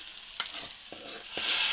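Hot tempering is poured into a mango pulissery curry, a brief hissing sizzle with a few soft splashes, rising into a louder fizz at the end, close and without talking.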